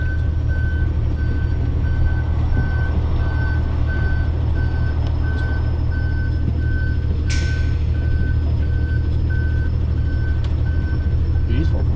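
A delivery van reverses near a car park at the Euston construction site, its reversing alarm beeping in a steady, evenly spaced pattern over a loud, continuous engine and traffic rumble, with a brief hiss partway through.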